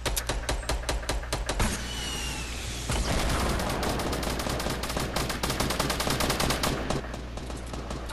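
Rapid automatic gunfire crackles through a Fortnite match, bursts of sharp repeated shots, close and loud, with a brief pause before another long run of fast firing.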